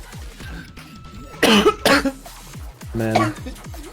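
Person coughs in a few harsh, bursting fits close to the microphone while streaming a reaction to an osu! tournament final, with some quieter background sounds between the coughs.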